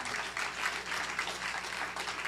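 An audience at a prison literary evening applauds the poets, a soft, steady patter of clapping from a modest crowd heard from a distance.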